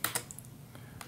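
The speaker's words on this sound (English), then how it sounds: "just press F10 on the keyboard, F10." Computer keyboard keys pressed at a PC's BIOS setup screen, a few sharp clicky taps, two quick ones at the start and a couple of softer ones after, close and isolated.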